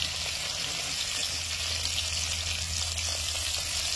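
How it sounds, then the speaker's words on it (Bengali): Paneer pieces fry in hot oil, giving a steady, even sizzling hiss that holds at a constant level throughout with no talk. "এরকম ভাবে ভেজে তুলে নিতে হবে"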